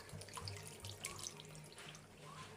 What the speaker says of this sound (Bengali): এই আমি এতটা জল দিয়ে দিলাম